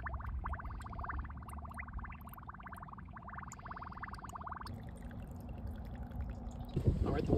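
Water pouring and trickling steadily out of a drilled steel tank being emptied for a homemade metal foundry, a continuous close splashing flow that shifts in tone partway through.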